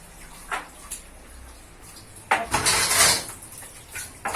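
Dishes, pots and cutlery being washed in a home kitchen: scattered clinks and scrapes, with a louder clattering burst of rinsing and knocking pots near the middle, fairly close.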